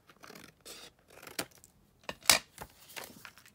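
Scissors snipping along a sheet of paper while making a window envelope book, several short close crisp cuts with quiet rustling between them, no talking.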